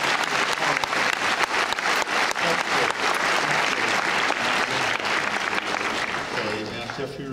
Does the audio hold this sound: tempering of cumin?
no